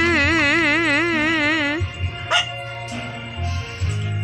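Dogs bark and yip in sharp bursts with whimpering, close by and fairly loud, some calls drawn out and wavering.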